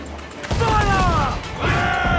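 Ship cannons boom in a rough volley during a naval battle in Assassin's Creed 4 Black Flag: two heavy blasts about a second apart, with crew voices shouting over them.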